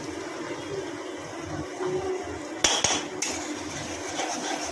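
Turmeric and cumin masala is sautéed in a pan for a Bengali pabda fish curry, a low frying hiss under a few sharp metallic clinks of a utensil against the pan midway.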